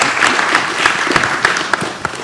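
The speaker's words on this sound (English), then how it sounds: "can we give him a big round of applause here?" Brief burst of audience applause at a panel discussion on the living wage, a room of hands clapping briskly and evenly for a couple of seconds.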